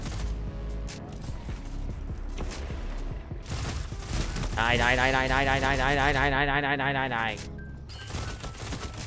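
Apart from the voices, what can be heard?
Swift Ride pulse rifle firing in video game Destiny 2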